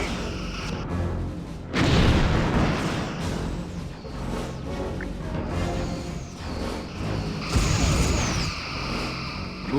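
Rear torpedo fire from a starship in the space combat game Star Trek: Bridge Commander, a loud booming launch over a continuous engine-like rumble, followed by further rumbling blasts and whooshes, with no speech.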